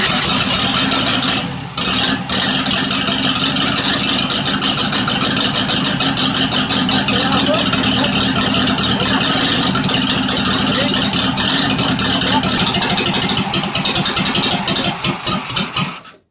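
A Renault 4L engine with an oil leak and a possible air-intake fault idles roughly and sputters as if about to choke. The sound is loud, close and continuous, then cuts off at the end.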